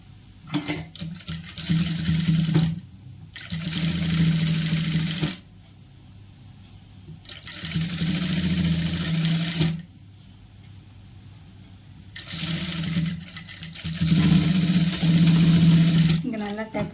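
An electric tailoring sewing machine stitches a churidar piece in three steady runs of rapid, close whirring, separated by quiet pauses where fabric is handled.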